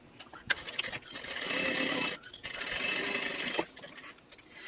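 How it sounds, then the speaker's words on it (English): Domestic sewing machine stitching across the top of fabric with a quarter-inch seam: two long, fast whirring runs of the motor and needle, separated by a brief pause, with a few light clicks before and after, close and clear. "Now I want to sew across the top using a 1/4 inch seam allowance."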